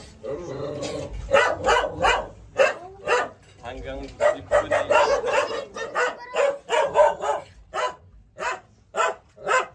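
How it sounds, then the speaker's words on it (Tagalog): A dog barks repeatedly in a neighborhood flooded chest-deep in Hagonoy, a series of loud, close, rhythmic barks with short gaps, mixed with a person talking. "Eri ho, may aso, may aso."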